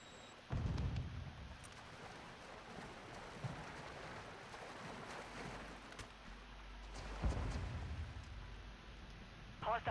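Thunderstorm in a multiplayer shooter game, deep rumbling booms and steady rain-like hiss, with two heavy low rolls of thunder and continuous background noise.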